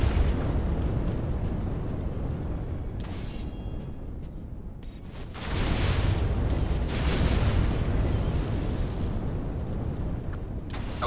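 Rapid-fire Dismantle attacks rip loose in a Minecraft Jujutsu Kaisen mod as Heian Era Sukuna, with a steady roar of blasts that dips briefly midway and then surges back loud and dense.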